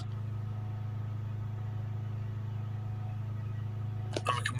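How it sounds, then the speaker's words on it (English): A Land Rover Discovery Sport 2.0 diesel Ingenium engine with a blocked EGR cooler, held steady at around 3000 RPM, giving a constant droning hum that lasts throughout, with a brief clatter near the end. "Okay, start the engine up. And let's now get the pressures up. We'll hold the revs back up around 3000 RPM."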